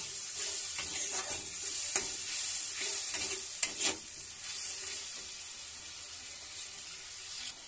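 Tomato fish curry gravy simmering in a pan, with a soft bubbling hiss and a few brief scraping clinks early on that fade into a steady quieter sizzle, with no voices.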